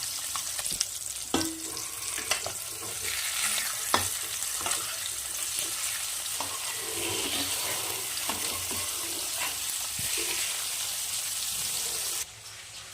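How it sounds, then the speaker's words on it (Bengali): Pieces of rohu fish fry steadily in hot oil, a dense continuous sizzle with occasional crackles and pops, close and loud, with no one speaking until it softens near the end. "মাছটা এক পাশ ভাজা হয়ে গেলে অন্য পাশ উল্টে ভালো করে লাল করে ভেজে নেব"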